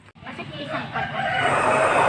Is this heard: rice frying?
no